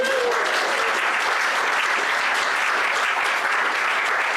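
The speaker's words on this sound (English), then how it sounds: "Let's give her a round of applause." Audience applause at a political campaign event, broad sustained clapping from a crowd that fills the whole stretch at steady loudness without letting up.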